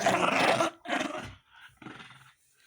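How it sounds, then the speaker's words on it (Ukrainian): A dog growls and snarls roughly during play with a toy rabbit, in two or three throaty bursts broken by short pauses, close and fairly loud, with no voices over it. "а як я тобі кину, як ти гарчиш?"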